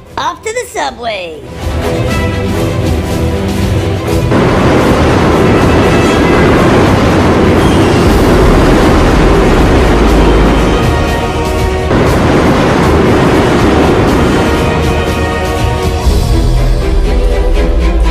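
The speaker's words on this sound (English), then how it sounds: "Watch out for the trains." Subway train passing in a children's chase game, a loud continuous rumble and rattle of cars over the rails lasting most of the clip, with voices and music mixed underneath.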